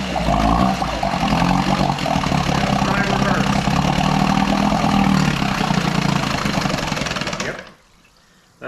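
A Sears Sportsman 9 hp outboard motor runs in reverse, its engine droning loudly and steadily with splashing water for about seven seconds before it abruptly stalls into near silence; a voice is heard over it.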